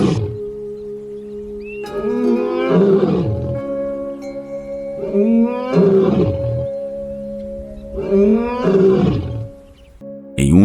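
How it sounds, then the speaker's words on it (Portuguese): Lions roar out on the Serengeti plains in the morning, four long, deep, loud roaring bouts with short pauses between them. Some faint high chirps sit over the roars. "Os sons dos pássaros e o rugido distante dos leões ecoam na manhã"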